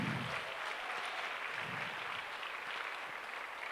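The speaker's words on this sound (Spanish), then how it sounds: "Vamos a darle un aplauso al Señor" A church congregation applauding the Lord during a sermon, a soft, distant, steady patter of many hands clapping together, with a few faint low murmurs underneath.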